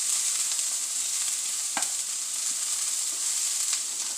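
Oil popping and sizzling in a pan while breakfast fries, a loud, steady, close hiss with a few distinct sharp pops scattered through, and no talking.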